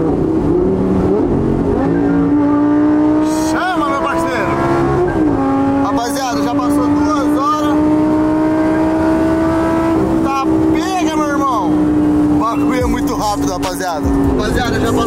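A Lamborghini drives on a Brazilian highway at night, its engine droning loud and steady with rising revs and gear changes over fifteen seconds, while voices talk throughout.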